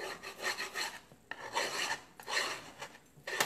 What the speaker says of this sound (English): you can take a scraper and you can start